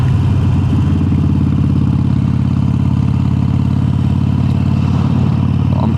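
Harley-Davidson Sportster 883 motorcycle with an upgraded exhaust, recorded from inside the rider's helmet while riding: a steady, loud, low engine drone with a throbbing rumble, continuous throughout with wind noise and no speech.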